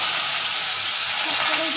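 Potatoes dropped into hot salted oil in a wok hiss and sizzle steadily, a bright continuous frying noise close by.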